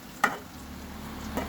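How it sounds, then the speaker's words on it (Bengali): Magur fish is stirred with spices in a wok. Two sharp scrapes of the spatula sound close by over a soft, steady sizzle, with no talk. "আমার কড়াইতে একটু নড়াচড়া করতেছে"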